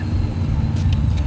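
Steady low rumble of an 850 hp supercharged 1969 Camaro restomod with a Tremec transmission, cruising under load, the engine drone heard from inside the car and holding constant throughout.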